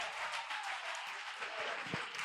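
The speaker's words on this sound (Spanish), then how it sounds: "Y ese aplauso es para Dios." A church congregation applauding during a service, a dense continuous wash of clapping heard from within the crowd, moderately loud and steady for a couple of seconds.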